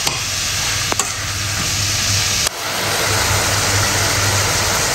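Minced meat stir-fries in a pan for spaghetti sauce, giving a steady close sizzling hiss with a couple of brief utensil knocks and no talking.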